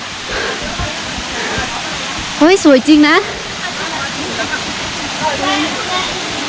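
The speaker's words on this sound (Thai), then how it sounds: "น้ำตกในสายหมอก นี่ไง น้ำตก" A steady, rushing roar of a misty waterfall near Kengtung fills the scene, with a person briefly speaking over it midway.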